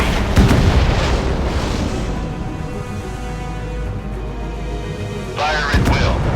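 Heavy naval gunfire in the warship battle game Force of Warships, a deep booming blast up front followed by rumbling battle noise and another blast near the end, with game voices talking over it.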